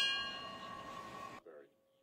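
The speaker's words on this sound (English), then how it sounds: "A bell tolling as dozens came together to remember the courage and sacrifice of astronauts" A single bell tolls at a NASA astronaut remembrance ceremony at Kennedy Space Center, a long, bright sustained tone that cuts off abruptly, followed by a brief faint voice.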